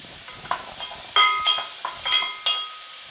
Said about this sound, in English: Grab a wooden spoon, give them a little stir.